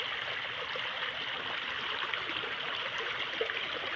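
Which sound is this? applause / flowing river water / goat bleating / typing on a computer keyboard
flowing river water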